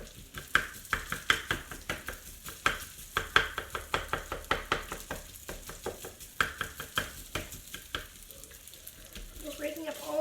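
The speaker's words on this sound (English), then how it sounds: "breaking up all the clumps of rice" Day-old rice frying in avocado oil in a pan while clumps are broken up, a continuous sizzle under a rapid, uneven series of sharp spatula taps and scrapes against the pan, close and fairly quiet.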